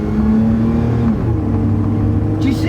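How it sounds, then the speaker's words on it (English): A high-mileage Toyota truck with about 236,000 miles pulls away and accelerates, its engine humming steadily at close range while someone talks over it. "So here we go. We'll step on it. That engine still hums."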